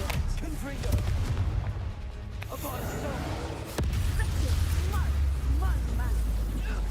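Spell explosions from Bombarda and Confringo in the Hogwarts Legacy video game, heard as a steady rumbling barrage of booms and blasts with brief sharp cracks and sweeping magical effects over continuous game sound.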